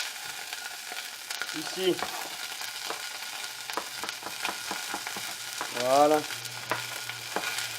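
Food frying in a hot pan while a rabbit dish is cooked: a constant close sizzle with occasional stirring scrapes and knocks, and a voice speaking briefly over it.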